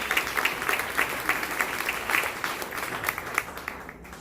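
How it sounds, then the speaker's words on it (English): Theater festival audience in Chicago gives a round of applause, a steady crackling crowd clapping with rhythmic peaks, sustained for several seconds and then tapering off at the end. "Another round of applause for Deb Clapp."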